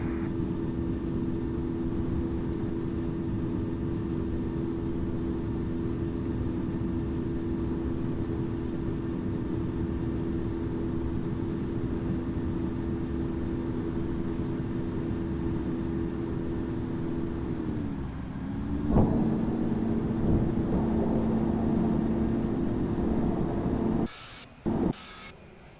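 Airliner from Air Portugal in the Infinite Flight game rolling for takeoff on runway 21 at Lisbon, a steady loud engine drone and rumble that shifts in pitch near the end before cutting out abruptly.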